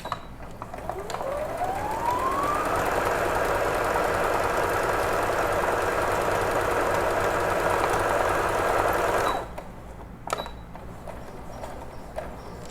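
A sewing machine stitches knit fabric scraps, its motor whining up to speed and then running steadily for about eight seconds before stopping, followed by a few faint clicks.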